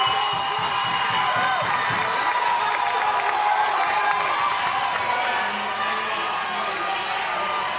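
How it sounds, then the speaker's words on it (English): Large crowd at a 2021 Little League World Series baseball game, Connecticut vs New Jersey, applauding and cheering from the first base side: a steady, dense roar of clapping and voices that holds throughout. "We'll hear a big round of applause"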